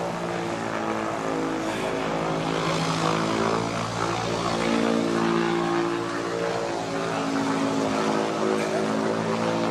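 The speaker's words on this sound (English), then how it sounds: "That's the plane that they come in on." A propeller airplane at a small county airport gives off a steady, loud engine drone with a rich harmonic hum that holds throughout and shifts slightly in pitch.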